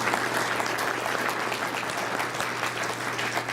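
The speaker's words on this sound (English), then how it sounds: "So give them a round of applause too as well." Steady, dense applause from a conference audience at a tribal economic outlook event, continuous and fairly loud throughout with no gaps.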